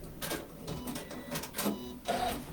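A sewing machine back stitches the side seam of a fabric shopper tote, giving a steady close-up mechanical whir that pulses in short uneven bursts, with no voices.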